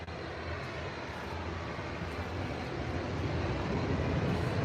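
A jet airliner's engine roars steadily at Manchester Airport, a broad continuous rumble that swells slightly louder toward the end, with no voices.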